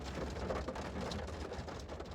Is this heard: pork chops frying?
no